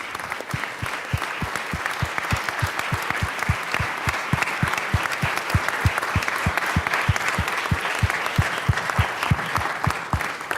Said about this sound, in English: I think we need to all stand for them and give them a round of applause.